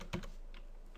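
Keystrokes of a password being typed on a computer keyboard during a server administrator login, a quick close cluster of clicks followed by quiet room tone.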